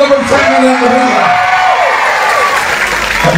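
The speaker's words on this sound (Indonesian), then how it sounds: "Selamat datang, kita berikan tepuk tangan yang meriah." A congregation at an evangelistic revival service in Manado claps and cheers together in a steady, busy wash of applause, with voices calling out over it.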